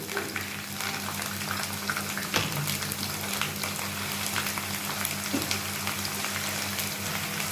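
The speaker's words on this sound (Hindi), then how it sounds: "अब इनको मैं ना गोल्डन होने तक भून लूँगी।" Finely chopped, washed onions fry in oil in a pan until golden, giving a steady, close sizzle that holds evenly throughout, with one brief clatter partway through.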